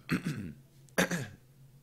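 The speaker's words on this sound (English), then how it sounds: "just gonna be like coughing this whole game, clearing my throat" Two short, rough throat-clearing bursts about a second apart, close and fairly loud, with quiet in between.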